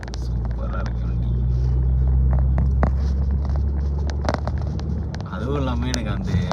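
A Mercedes-Benz E200 fitted with a full AMG kit hums with a low, steady engine rumble while driving, with road noise and someone talking over it.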